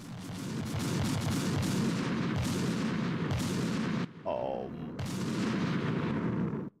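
Rapid heavy gunshots in Metal Gear Solid 2, a loud dense barrage of booming reports that breaks briefly midway and then resumes before stopping abruptly.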